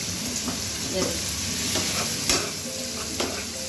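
Tomatoes are pressed and stirred in a frying pan with mixed vegetables, a continuous close sizzle broken by repeated scraping strokes of a spatula. No one speaks.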